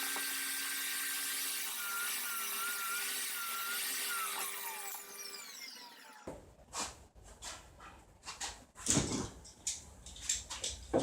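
A power saw cuts pieces of wood for box sides, a steady high whine that shifts in pitch for about six seconds. Then it stops, followed by scattered handling knocks and clatter.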